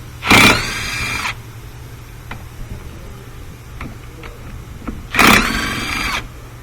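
Impact wrench with a 14 mm swivel socket on an extension, spinning a bolt loose counterclockwise during a rear wheel bearing job on a 2015 Subaru Forester AWD; two loud, one-second bursts of buzzing rattle, close up, with quiet clinks between.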